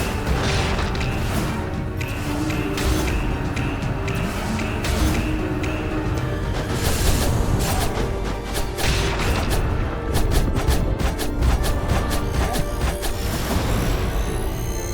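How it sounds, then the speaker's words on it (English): Explosions and crashing impacts from the action game Skul: the Hero Slayer hit in rapid bursts over a busy stretch of game sound, with sharp booms piling up and a denser flurry near the end. "The explosion doesn't hit me here"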